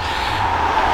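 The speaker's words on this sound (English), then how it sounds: "Sorry about the road noise" Continuous low roar of road traffic, steady and fairly loud, with no voices.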